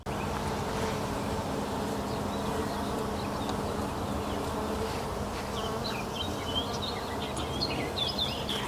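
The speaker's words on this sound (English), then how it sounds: "There is a ton of pollinator activity in the wisteria already. Just standing here, I can hear it buzzing everywhere." Bees and other pollinators hum steadily around flowering wisteria plumes in a spring backyard garden, a dense continuous buzz that fills the air, with a few faint bird chirps scattered over the top.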